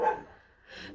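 A dog barks close by, one sharp bark at the start and another rising at the end, loud, with no voices around it.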